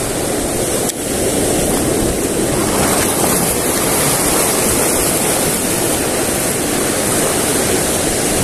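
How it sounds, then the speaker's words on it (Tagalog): Large ocean waves crash and roar in a steady, loud, continuous wash of surf on a shore where fishermen are spot-hunting, with wind buffeting the microphone and no voices. "Grabe nilaki ng mga alon"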